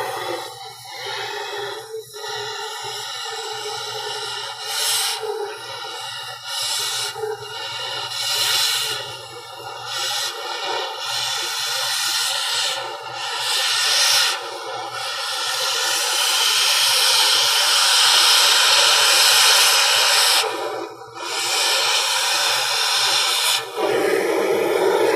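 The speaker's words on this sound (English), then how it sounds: "I'm going to cut this existing rusty, crappy weld out." A scarfing torch tip roars as it gouges out an old rusty weld, a loud continuous hiss broken by short pauses and surges, with no talking.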